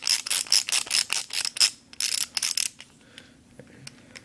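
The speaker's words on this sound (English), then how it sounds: "you can twist ratchet it" A Kobalt double drive ratchet is twisted, giving a close run of rapid crisp clicking bursts in quick rhythmic groups that thin out to a few quieter clicks toward the end.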